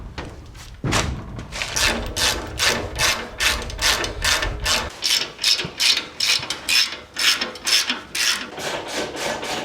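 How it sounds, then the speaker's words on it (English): Ratchet wrench clicking rapidly as old nylock nuts are backed off the U-bolts under a Series Land Rover during restoration; steady bursts of close, sharp pawl clicks with brief pauses, no talking. "First job is to replace all those old nylocks that are on the U-bolts with these nice new ones."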